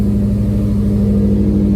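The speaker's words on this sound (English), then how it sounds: "Now we're gonna let the car idle for a couple of minutes. It does sound loud because it's a cold start." A car with an axle-back exhaust idles on a cold start, a loud, steady, deep engine drone with a low rhythmic pulse, close by and alone.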